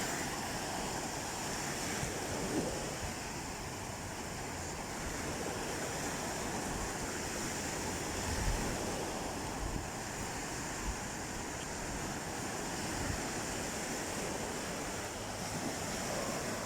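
Light wind blows across the beach at Varadero, Cuba, as a soft, steady rush over the distant wash of surf. It stays quiet and even throughout, with no voices.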